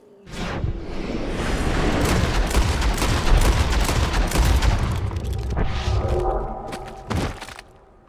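Gunfire in the video game Red Dead Redemption 2: a loud, sustained roaring barrage of shots lasting several seconds, ending with a sharp final crack, close and with no talk over it.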